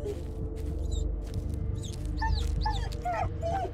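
A dog whimpers and yips in the Blair Witch horror video game, high thin whines repeating over a steady low ambient drone.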